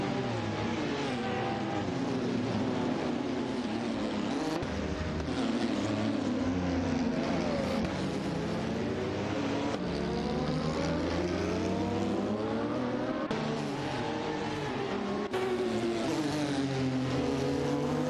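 Simulated race cars, a Ferrari F50 GT and a 962 LM, howl through a video-game race, with engines revving and shifting continuously, several cars layered close together and loud throughout.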